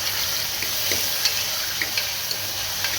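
Tomatoes and onions sauté in a pan for moong dal sambar, giving a steady, loud, close hiss with a few faint ticks from stirring and no voices.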